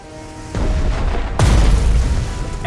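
A torpedo strikes and sinks an enemy vessel in the strategy game Strategic Mind: Blitzkrieg, a deep rumbling rise and then a loud, heavy explosive boom that rolls on after the hit.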